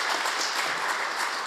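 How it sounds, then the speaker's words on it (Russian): Applause for the president at a televised Tatarstan event, a dense even patter of many hands clapping, steady and fairly loud across the short stretch. "Аплодисменты нашему президенту."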